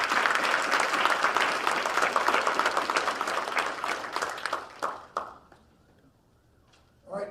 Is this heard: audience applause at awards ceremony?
yes